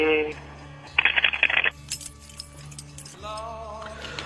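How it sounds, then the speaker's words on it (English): Keys jangle in a short, bright metallic burst close to a radio studio microphone, lasting under a second between quieter stretches of room noise and faint voices. "Hey, Fezzy, I got your keys. Listen"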